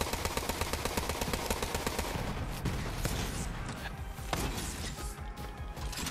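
Borderlands 3 gunfire during the Aurelia boss fight: a fast, evenly spaced automatic burst at the start gives way to a dense, chaotic mix of shots and impacts, with some talk underneath.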